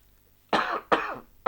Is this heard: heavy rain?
no